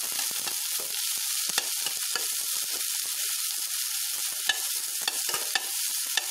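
Ground paste sautéing in a pan for a paruppu usili lunch dish, a dense continuous sizzle with frequent small scraping taps from stirring, close and even, with no voices.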